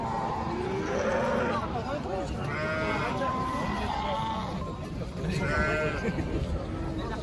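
Lambs bleating repeatedly at the Kara-Balta livestock market, several wavering cries close by over a busy crowd murmur, with people talking nearby.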